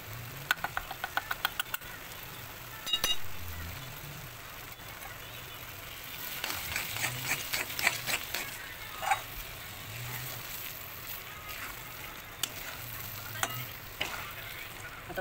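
Papaya laddu mixture cooks in ghee in a pan, with a steady low sizzle under repeated scraping and knocking of a spoon stirring, close by, interrupted by occasional clanks.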